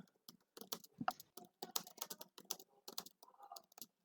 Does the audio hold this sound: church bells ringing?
no